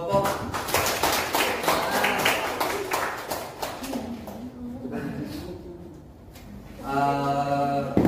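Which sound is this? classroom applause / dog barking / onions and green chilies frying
classroom applause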